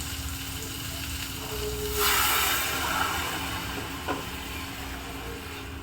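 A pot of water with sweet corn bubbles and hisses at a steady boil, with a brief louder surge of sizzling partway through and a soft clink near the end.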